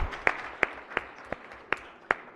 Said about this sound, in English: So if you could give them a round of applause.